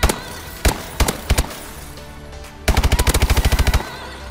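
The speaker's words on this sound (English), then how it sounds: "I can finally use this gun." A submachine gun fires in a first-person shooter game in several short bursts, then one sustained rapid burst near the end. The shots are loud, sharp and close, with no talking.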